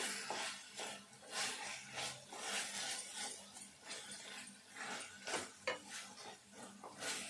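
Spinach fry is stirred in a pan, with continuous scraping and rhythmic stirring strokes over a soft sizzle, fairly quiet and close.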